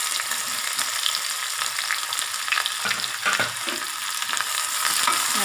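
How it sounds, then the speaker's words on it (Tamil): Small onions frying in hot oil after fennel seeds, cooking for chicken chintamani: a steady, close sizzle with crackling bursts and occasional stirring scrapes throughout. "சின்ன வெங்காயம் போட்டுறலாம்"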